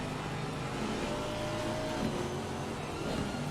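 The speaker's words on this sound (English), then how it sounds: "You can just hear the car flooded. Just hydroplaned the whole time." A GT4 race car in Assetto Corsa Competizione hydroplanes on a flooded track, its engine a steady droning whine with hissing spray noise underneath, held at an even level throughout.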